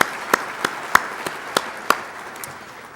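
Sparse, scattered claps from a small crowd at the State of Utah business address, with isolated sharp hand claps spaced out and fading, fairly close and alone.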